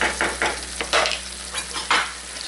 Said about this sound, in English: turn up the heat a little bit and reduce that sauce so that it thickens and reduces to almost nothing